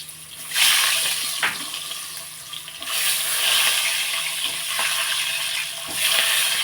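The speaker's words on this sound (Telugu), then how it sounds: "అందులోని గుడ్లు వేసి ఇవన్నీ గుడ్లు వేపుతున్నాడు" Eggs frying in a pan with turmeric give a steady, loud hissing sizzle that surges and eases, with a few faint knocks from the pan and utensil.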